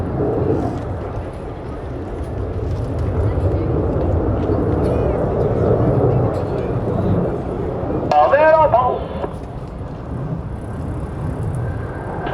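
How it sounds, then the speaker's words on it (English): Blue Angels Navy jets flying the Diamond Aileron Roll at an air show, a steady loud roar of engines filling the whole stretch with a brief sharper swell near the end, crowd noise and voices mixed underneath. "All 4 pilots will simultaneously roll their aircraft 360 degrees as they perform the Diamond Aileron Roll"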